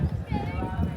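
Brief clip-clop of horse hooves as a rider sits on a horse during a family outing at Mantralaya, with people talking over the steady footfalls.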